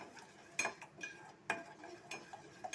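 A spoon scraping and clinking against a pan while beetroot puree is stirred into homemade jam, with a few sharp taps among soft wet stirring sounds, close and fairly quiet.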